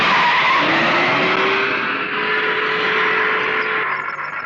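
Car tires skid with a loud, sustained squeal and rushing noise as the vehicle brakes hard to a stop, lasting several seconds without talking.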